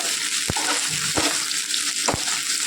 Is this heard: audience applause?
no